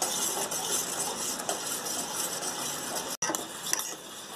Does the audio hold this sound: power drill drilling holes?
no